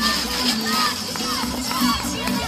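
Spectators at a 2016 women's tandem race in Drumheller cheer and shout as runners come down the home stretch, a lively crowd noise with higher children's voices rising over a steady background.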